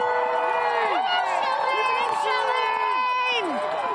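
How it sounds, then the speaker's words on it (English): Spectors lining Kenmore Square on Boston Marathon Monday cheer for a passing runner, a continuous dense crowd roar with scattered shouts and whistles, loud throughout. "her family and the crowd cheered big"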